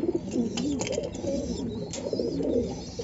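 Pigeons coo repeatedly in a coop as it is being shut before rain, with soft, rolling calls close by and a few faint knocks and chirps mixed in.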